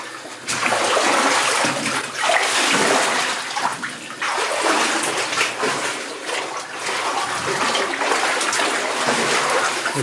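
Water in a backed-up creek along a steep shale route rushes and churns steadily, loud and close, with slight surges throughout.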